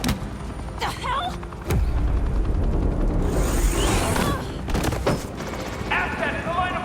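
Gunfire from police weapons in Batman: The Telltale Series – The Enemy Within on PS4, heard as sharp booming shots and bursts over busy game sounds, with voices talking through the scene.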